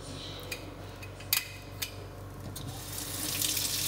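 Fresh tap water runs into a cooking pot at a kitchen sink, with a few light clinks of metal at first, then the stream grows fuller and louder as the pot fills.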